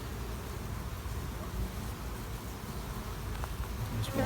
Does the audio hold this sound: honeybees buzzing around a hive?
yes